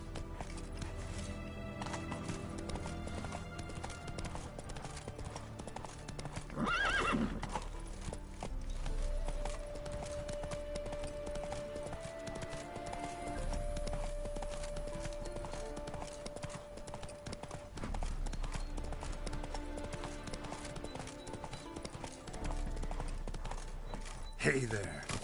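Hooves of the horse Roach clip-clop steadily in The Witcher 3, a galloping rhythm running under game music and ambience, with a voice speaking briefly over it.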